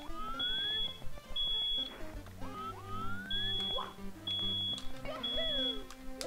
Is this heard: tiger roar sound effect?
no